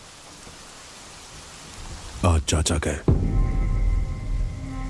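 Steady rain hisses through a storm in Bombay in a movie scene, with a deep low rumble of thunder rolling in toward the end, while someone speaks briefly over it.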